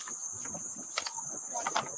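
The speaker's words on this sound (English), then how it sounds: "God damn those crickets or whatever those are. Those cicadas." Crickets or cicadas chirp steadily outdoors at a roadside traffic stop, a dense high-pitched drone running throughout, with a few brief louder bursts.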